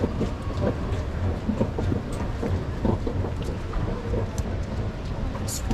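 Steady rain falls on a city street near the train station in 's-Hertogenbosch, Netherlands, a dense, constant hiss with a low rumble of traffic underneath and no talking.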